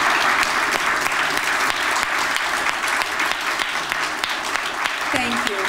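Sustained applause from a lecture-hall audience honoring veterans and military personnel at a Ronald Reagan Lecture Series event, a thick continuous roar of many hands clapping at an even level throughout.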